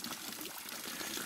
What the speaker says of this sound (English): that's just the water being scooped into it